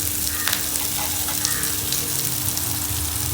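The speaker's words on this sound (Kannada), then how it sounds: "ಒಂಚೂರು ಎಣ್ಣೆ ಹಾಕ್ಕೊಂಡು ಈರುಳ್ಳಿ ಸ್ವಲ್ಪ ಫ್ರೈ ಮಾಡ್ಕೊಳ್ಳೋಣ." Onion frying in a little oil for channa masala, a dense close sizzle with scattered crackles and pops, a steady low hum running underneath, no one speaking.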